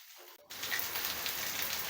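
Tamarind sautéed with moringa leaves in a pan for a thuvaiyal sets off a steady, dense frying hiss that bursts in suddenly after a brief hush and runs on evenly, close and alone, with no talk.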